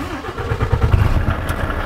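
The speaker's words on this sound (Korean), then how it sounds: "먼저 시동을 걸어볼게요." A Volvo FMX 540 dump truck's diesel engine turning over and catching, a deep, throbbing low rumble building into a steady idle, heard from close by.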